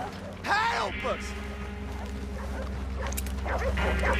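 Dogs barking and yipping in the video game Red Dead Redemption 2, several sharp barks and whimpers over a steady low background, with people talking throughout.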